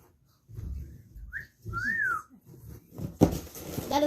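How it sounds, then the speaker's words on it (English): A person whistles to call a cat, giving short rising and arching pitched whistles, close and clear, among quiet shuffling and faint low murmurs, with a sharp clatter near the end. "That is called the cat whistle."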